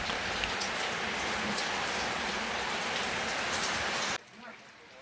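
Dense, heavy rain in Lagos pours in a constant loud hiss, with drops pattering on surfaces, before cutting off suddenly to a quieter drizzle near the end.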